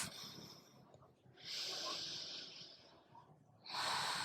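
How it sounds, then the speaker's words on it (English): Long, steady, deep breaths during a yoga practice, drawn in and let out with a breathy, hissing rush, close to the mic, with brief quiet gaps between breaths. "Breathe long and steady breaths."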